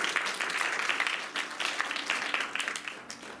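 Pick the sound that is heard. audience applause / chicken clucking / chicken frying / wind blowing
audience applause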